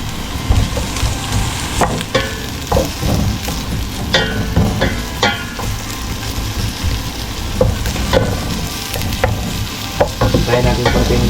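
Ginger goes into a pot for Filipino chicken tinola, set over a steady sizzle with scattered scrapes and stirring knocks from a utensil against the pot, all close and fairly loud, with no talking.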